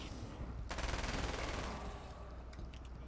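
Submachine gun fire in the Alan Wake's American Nightmare video game, a rapid burst of shots over roughly a second that fades into a quieter ringing tail.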